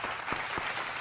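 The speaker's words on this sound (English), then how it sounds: "but you definitely have my applause." Steady clapping from a group fills the whole moment, a continuous even patter of applause with no voices.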